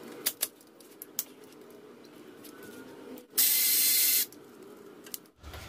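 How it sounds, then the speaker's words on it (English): A 9/16 ratchet working an idler pulley bolt on a Hyundai Genesis Coupe gives a few sharp, close clicks, followed by a loud, steady burst of mechanical noise lasting under a second, with no talking. "Right, idler pulley bolt, 9/16 is what I use here."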